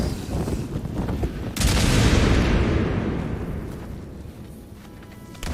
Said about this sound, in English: The explosion is like really loud.